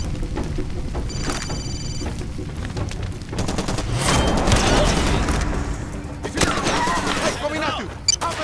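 Gunfire rattles in the Far Cry 2 video game, with bursts of automatic shots and scattered single cracks over a rumbling, noisy battle ambience, some shots near and some farther off.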